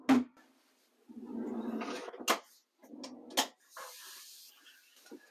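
Drawers in a camper van slide open and shut with long rolling runner sounds and sharp knocks as they stop, several movements in a row close up.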